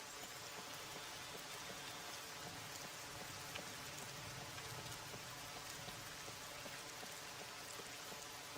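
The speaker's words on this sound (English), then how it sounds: "Rain sounds really cool in the rusticals." Steady rain pours down in a hardcore solo survival video game, a dense, even hiss of countless drops spread across the whole stretch with no pauses and no voices.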